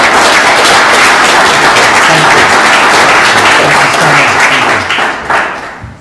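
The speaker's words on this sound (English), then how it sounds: "round of applause." A large audience at a tech meetup claps loudly and continuously, a dense wash of applause that holds steady and then starts to thin and fade out.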